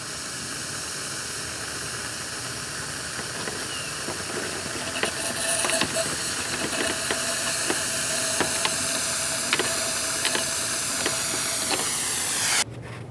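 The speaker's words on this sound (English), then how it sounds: "we need to remove as much of the brake fluid as possible from inside of the master cylinder so we can avoid making a mess. I have a fluid extractor" Fluid extractor drawing brake fluid from the master cylinder of a 2015-2020 Ford F-150: a steady close hiss with light rattling and sucking crackles running for about twelve seconds, ending abruptly.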